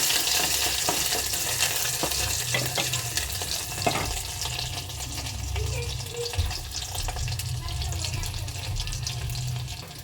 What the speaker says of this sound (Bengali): তেল গরম হয়ে গেছে সিটি মাছটা দিয়ে দিলাম নেড়ে কেড়ে নেবো